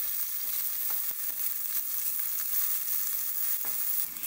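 Onion frying in a pan for chicken noodles, a steady close sizzle with occasional light stirring scrapes, no voices.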